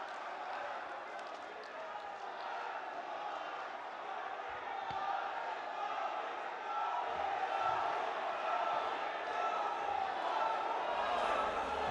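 A large crowd at an official event in Bihar greets the Prime Minister with loud, sustained applause and cheering, a dense continuous roar that holds steady and swells slightly toward the end, with voices mixed in.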